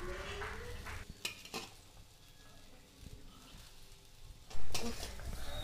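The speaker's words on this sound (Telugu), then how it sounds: "కట్ చేసుకున్న కాకరకాయ ముక్కలను పెనం మీద వేసి స్టవ్ మీడియం ఫ్లేమ్లో పెట్టి ఫ్రై చేసుకోవాలి" Bitter gourd pieces fry on a hot pan over a medium flame while being stirred, giving a close, steady low sizzle broken by several loud utensil scrapes and clanks against the pan, with the sharpest clatter near the end.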